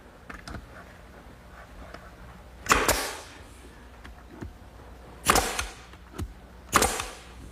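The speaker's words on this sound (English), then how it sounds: "I'll fasten it in place using a couple 1¼ inch nails at each location" Panels in a woodworking shop being fastened with 1¼ inch nails: three sharp, loud nail-driving cracks spaced a few seconds apart, with smaller clicks and taps between them in a quiet room.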